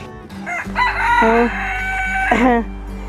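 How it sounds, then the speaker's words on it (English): A rooster crows loudly nearby in a long drawn-out call, then breaks into a rising second cry, with a low steady hum underneath. "All the chickens are up and out and about."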